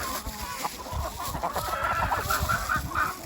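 Several chickens cluck and murmur close by, with short rising calls repeating toward the end over a busy farmyard background.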